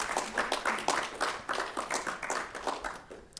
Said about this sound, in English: you can give them applause while they come up